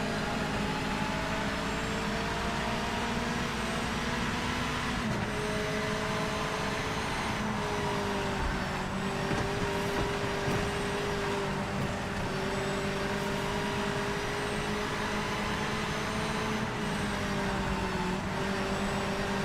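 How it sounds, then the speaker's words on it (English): Race car engines in the Project Motor Racing video game, heard from outside the cars, a steady droning whine with shifting pitch held continuously throughout, fairly loud with no talk. "Cars sound awesome outside."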